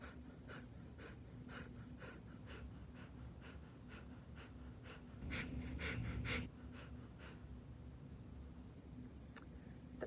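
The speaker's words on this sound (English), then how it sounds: "You simply inhale through your nose and you exhale sharply in contractions" A series of sharp, rhythmic exhalations forced through the nose during breath-work practice, quiet and close, with one stronger cluster of breaths in the middle and no talking.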